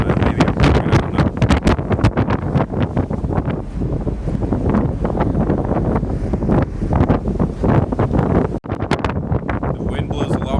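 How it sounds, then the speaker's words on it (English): Strong wind buffets the open deck of a ferry sailing off Hokkaido, a loud, continuous roar with gusting surges and rough microphone rumble, and water and ship noise mixed underneath. "The wind blows a lot more heavily on this side of the ship"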